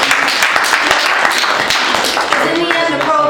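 Audience clapping at a political awards event in Arizona, a dense spread of claps filling the whole stretch, fairly loud and close, with voices and cheering mixed in toward the end.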